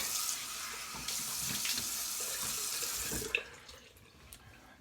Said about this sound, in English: Let me rinse up real quick